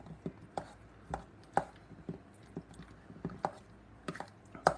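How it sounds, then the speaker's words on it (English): Apple chunks squelch and knock as they are mashed by hand into cream cheese in a bowl, with soft irregular thuds and wet taps close up. "we're going to mix this stuff all up with the cream cheese"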